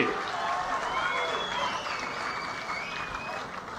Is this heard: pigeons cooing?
no